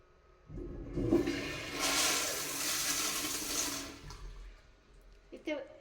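An automatic sensor toilet flushes with a sudden loud rush of water lasting about three seconds, then drains away, recorded close and with faint background noise.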